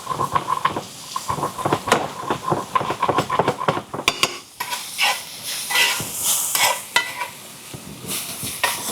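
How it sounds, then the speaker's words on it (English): A knob of butter sizzles and crackles in a hot pan, a steady close frying hiss mixed with sharp clicks and utensil knocks, with no talking. "So now I want to go in with a nice knob of butter."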